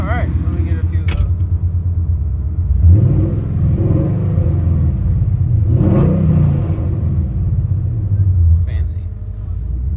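A 1992 Ford Mustang LX with a swapped Coyote 5.0L V8, long tube headers and 14-inch Magnaflow exhausts, loud and close, idling with a deep rumble and blipped twice in sharp revs, with brief talking.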